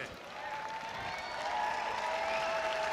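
A crowd cheers and applauds for a German Shepherd during Herding Group judging at the 2019 Westminster Kennel Club Dog Show, with steady clapping that grows a little louder and fuller.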